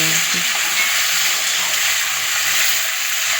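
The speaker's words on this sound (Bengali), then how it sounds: "এখন আমি মাছ ঝোল করছি, মাছ জন্য মশলাটা ভাজা করছি" Spice paste frying in a pan for a Bengali fish curry, a steady loud sizzle and hiss with faint stirring scrapes, continuous and close throughout.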